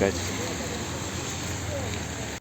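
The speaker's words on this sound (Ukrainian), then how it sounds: "почався великий-великий ливень" Heavy rain pours down at an outdoor market, a dense continuous hiss and patter filling the whole stretch at moderate level, with a voice speaking over it.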